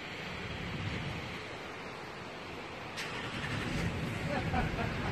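Ocean surf at Imperial Beach in the morning, a steady broadband wash of breaking waves that swells slightly around the middle and end, with some wind noise on the microphone.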